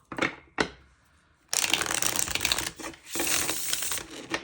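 A couple of quick tarot card flicks, a pause, then a longer rustling riffle of tarot cards shuffling, close and fairly loud.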